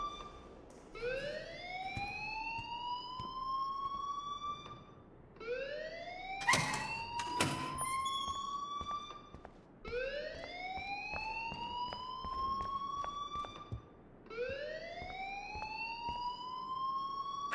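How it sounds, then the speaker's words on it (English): A school fire alarm in the video game Life is Strange wails in repeating rising sweeps, about four cycles at a steady interval, loud and close, with a brief burst of sharper tones partway through. "please turn off that alarm since that's your job"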